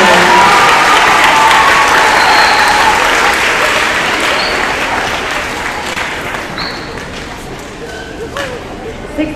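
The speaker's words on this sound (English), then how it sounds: "let's give one more round of applause to all of those students who are recognized this morning." Loud, full applause from a school audience at a sixth grade end-of-year awards assembly, many hands clapping steadily with some crowd noise, gradually easing and then swelling slightly near the end.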